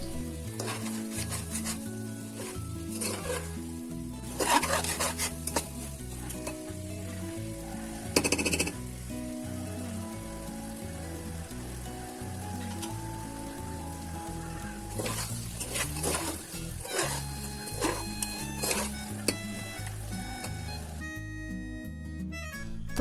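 Chicken curry with jackfruit seeds sizzles in an uncovered pot as it is stirred, with scattered spoon scrapes and bursts of louder frying over a continuous music bed.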